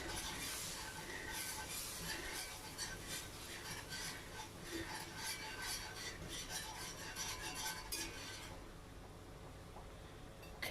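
A whisk scrapes and rasps against a pan while working flour into a roux for macaroni and cheese, a quiet, continuous rhythmic scratching that eases off near the end.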